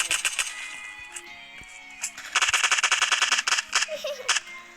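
Video game gunfire in PUBG Mobile's zombie mode: bursts of rapid automatic shots, sparse at first and then a dense sustained volley, with players talking over the action.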